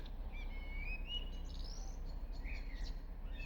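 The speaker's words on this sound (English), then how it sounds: "I'll pause talking for a second so you can hear the birds." Birds chirp and whistle in a garden, with thin high calls scattered across the moment over a steady low background rumble, fairly faint and with no talking.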